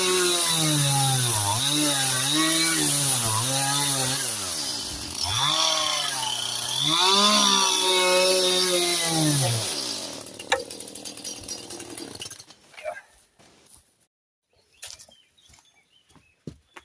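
A chainsaw cuts through eucalyptus hardwood, revving loudly and bogging as it bites for about ten seconds before dropping away, followed by scattered knocks and quiet.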